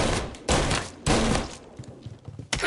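Gunfire from a firefight in Mafia Definitive Edition, two loud broadband bursts about half a second apart followed by a fading tail of smaller pops and thuds, with a final sharp shot at the end.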